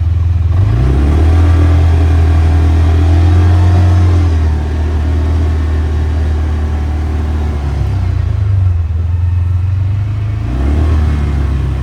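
A 2023 CFMoto UForce 600 UTV driving slowly in low-range work mode on slippery ground, its engine droning loud and close with rising and falling revs as it speeds up and eases off.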